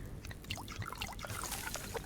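Water trickling and pouring in a steady, soft stream as plants are topped up with water and fertilizer in the survival game Subsistence, faint and continuous with no voices.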